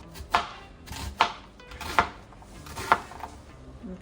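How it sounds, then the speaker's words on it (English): A knife chops a red onion on a cutting board, four crisp evenly spaced strikes close up with soft rustling between them. "I'm going to start by chopping up some onion."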